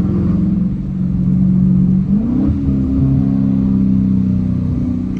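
A Dodge Challenger R/T engine pulls hard during fast acceleration, producing a loud, steady roar that climbs in pitch, drops briefly at a gear change, and then keeps rising. It is close and continuous, and no one talks.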